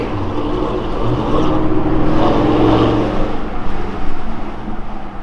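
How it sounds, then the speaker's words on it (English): Corsa exhaust on a 2017 Yukon Denali XL gives a loud, steady low growl that swells and eases slightly as the vehicle drives, echoing off nearby buildings, with no talking. "Hear that Corsa growl."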